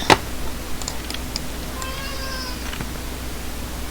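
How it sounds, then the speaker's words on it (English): A house cat meows in a single drawn-out call near the middle, fairly close against a quiet room with a low steady hum and a few small knocks. "My cat is meowing."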